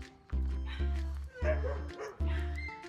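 A dog barks three times in a regular rhythm around a house in the Philippines, with loud, close woofs that each trail into a short whine, over faint background noise.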